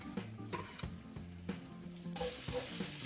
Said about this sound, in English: Once you take out the browned meat, put in the onions and the garlic.